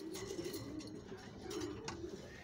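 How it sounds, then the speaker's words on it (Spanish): A pigeon coos in a low, repeated murmur, two soft rolling phrases at close range with faint background noise and no talking. "Esta es la paloma que le quiero echar esta semana"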